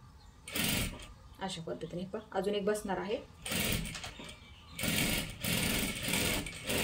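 A sewing machine stitches a salwar in bursts, with someone speaking over and between the runs of stitching.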